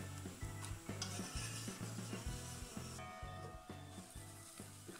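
A spinach frittata browns in a pan with a steady, dense sizzle, while a regular low thumping pulse runs underneath throughout.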